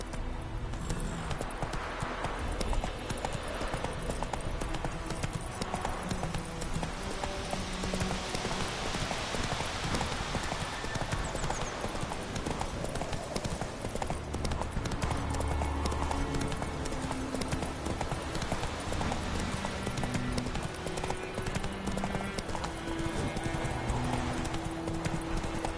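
Horse hooves clip-clopping at a gallop in The Witcher 3 video game, a continuous rapid rhythmic drumming over a busy background mix, with an occasional faint whinny and voices.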